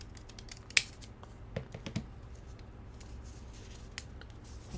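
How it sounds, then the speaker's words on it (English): Scissors snip the tips of paper strips at an angle while making a woven Moravian paper star, giving a few faint, sharp clicks and cuts scattered over quiet background. "we're going to take a pair of scissors and cut the tips at an angle"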